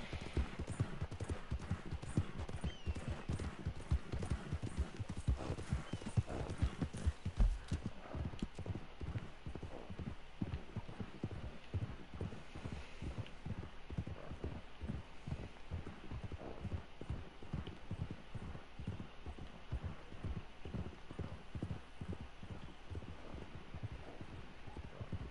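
Horse hooves clip-clopping in the video game Red Dead Online, a steady, even rhythm of close hoofbeats lasting the whole stretch, with no talk over them.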